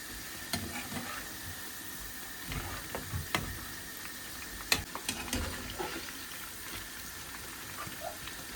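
Vegetable pakora made with greens, carrot, potato and onion frying in oil, a soft steady sizzle with scattered small clicks and taps, close and fairly quiet with no talk.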